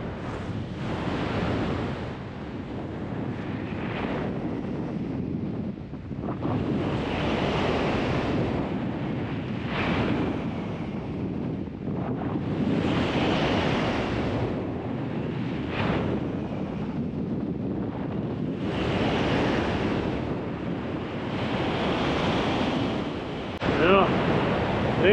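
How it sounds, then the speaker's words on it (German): Wind roars and buffets across the microphone during a paraglider flight above the Brunnkogel in the Salzkammergut, surging and easing in long waves of constant rushing noise. "der Wind kommt von der Hinterseite und ich fliege gerade mit dem Wind"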